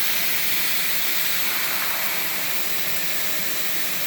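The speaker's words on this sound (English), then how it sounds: "So just turn on the faucet" Water running from a kitchen faucet into a pot, a steady, even hiss of flow with no break, alone with no voices.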